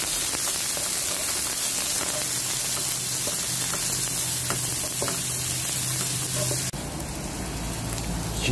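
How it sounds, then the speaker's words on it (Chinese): Onions stir-frying in a little oil in a pan, a steady dense sizzle with faint scraping of stirring throughout, no talking. "接着我们在锅中放入少许油，将皮亚兹 然后进行炒"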